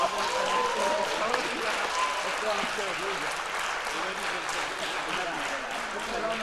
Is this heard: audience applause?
yes